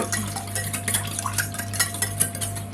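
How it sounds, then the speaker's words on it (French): Whisking a leek and goat cheese quiche filling of beaten eggs in a bowl, a quick, steady clicking and scraping rhythm of the whisk against the bowl, close and continuous under a low hum. "faut bien battre parce que sinon le blanc il va pas se mélanger assez"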